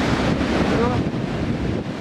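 Stormy sea surf roars at a beach in Kobuleti, a dense continuous wash of breaking waves mixed with heavy wind buffeting the microphone, steady and loud with no clear individual wave breaks.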